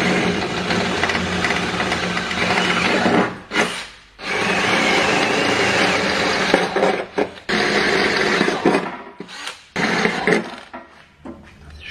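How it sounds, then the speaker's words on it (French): A power drill bores into a car's rocker panels to fit inserts, running in loud sustained bursts broken by several brief pauses before stopping near the end. "ça veut dire percer plus gros, mettre les inserts et puis juste visser les bas de caisse"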